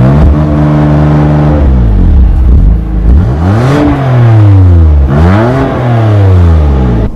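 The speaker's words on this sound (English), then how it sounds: "I was expecting the exhaust to be a bit loud" A 2019 BMW M2 Competition revs hard through several gears, its exhaust rising in pitch with each pull, dropping on shifts and climbing again, loud and close throughout.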